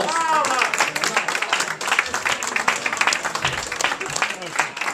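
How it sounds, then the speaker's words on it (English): An audience at a victory speech applauds for Shmuel Lefkowitz, a dense burst of clapping that thins and swells over a few seconds, with crowd voices mixed in. "We might give him a round of applause."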